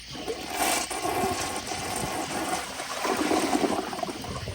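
A 1993 Crane Hymont toilet flushes with a loud, steady rush and gurgle of water that runs for several seconds, recorded up close with no voices.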